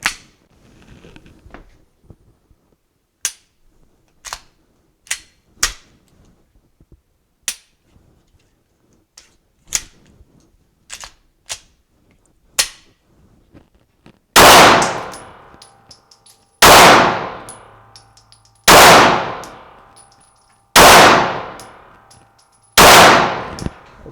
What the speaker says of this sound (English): I'm going to use my Glock 19X here, and I'm going to put 5 rounds in the right-hand target using my dominant hand